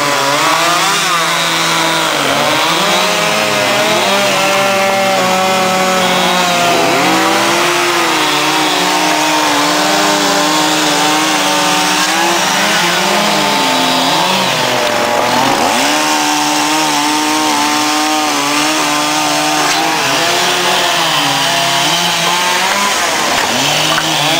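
An electric chainsaw runs steadily and loudly throughout, its motor whine rising and dipping as it bites into wood at an outdoor wood day event, with no talking.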